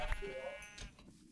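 Sheep bleating in a blocky Minecraft-style game, a couple of short nasal cries close by, with faint game ambience and no talk over them.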